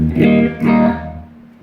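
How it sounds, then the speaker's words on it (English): Two strummed electric guitar chords through a phaser pedal into a Mesa Boogie amp, swirling phaser sweep, ringing out and fading, loud and close. "that's with the phaser on."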